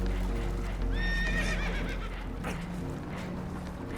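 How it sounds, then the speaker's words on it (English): Spooked horses aboard a damaged boat in a video game whinny and neigh in shrill, wavering cries over a heavy low rumble, with hoof clatter and scraping around them. "Horses are spooked"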